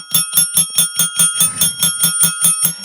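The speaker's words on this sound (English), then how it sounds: "Tim, you're supposed to be going for the bell, not the hat." A bell is struck in rapid, steady succession, about fourteen bright ringing hits in under three seconds, loud and close with no talking.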